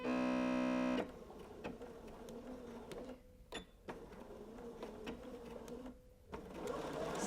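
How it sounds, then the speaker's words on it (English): Sewing machine stitching a self-binding receiving blanket, a steady mechanical whir with a loud start and brief pauses between runs, close and alone. "Put your foot down, and then when you're stitching,"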